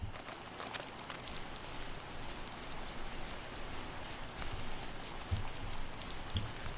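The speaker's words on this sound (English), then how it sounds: "Not entirely sure what kind of surface it's rain falling on, but it sounds something firmer than grass." Steady, dense rain in the video game The First Tree pattering on a hard surface, close and even, with a couple of slightly heavier drops near the end.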